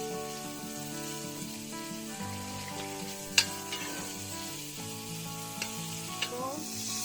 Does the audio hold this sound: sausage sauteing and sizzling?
yes